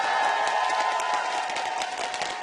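Crowd of League of Legends esports fans cheering for Dignitas against Saigon Jokers, a dense continuous roar of voices and applause that stays loud and steady throughout.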